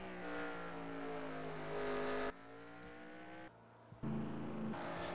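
A race car drives at Sonoma Raceway, its engine holding a steady, loud harmonic drone with gear changes and shifts in pitch, broken by short drops in level.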